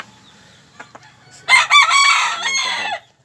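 Pet chickens at feeding time, quiet clucks and scattered calls before a loud rooster crow bursts in close by, followed by further raucous squawking that fades out.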